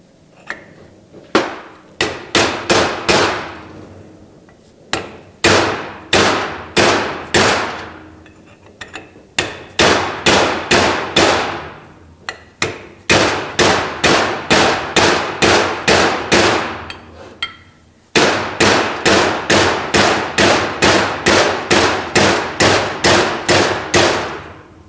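A sharpened bit chatters out a bushing on a 350 transmission valve body in rapid bursts of sharp metallic impacts, several loud runs separated by short pauses, close up with no talk.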